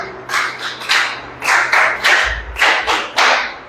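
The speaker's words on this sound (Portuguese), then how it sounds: "que essas palmas alcancem o trono do Senhor" A church congregation clapping hands together in bursts, a series of sharp, fairly close claps in an uneven rhythm roughly every half second, with no talking.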